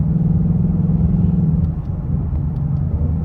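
A 5.0 V8 car with a 10-speed transmission pulling hard from a rolling start, its deep engine rumble loud and continuous, easing slightly partway through, with no talking.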